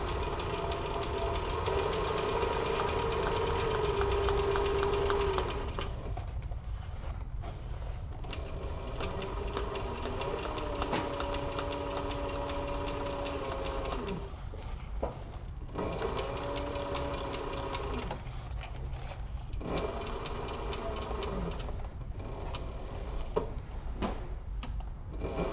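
A sewing machine stitches a seam with a presser foot guide, running backward for a couple of stitches and then forward, its steady mechanical chatter loud and close with short pauses between runs.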